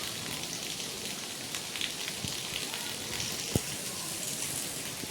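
Rain falls across a waterlogged mango orchard in a village, a steady close patter of drops with occasional sharper splats and a faint distant voice beneath.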